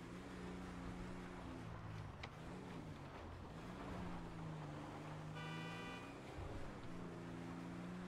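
A massive truck in Grand Theft Auto V drives along with a steady low engine drone that rises and falls as it changes speed, and a brief horn-like toot cuts in partway through.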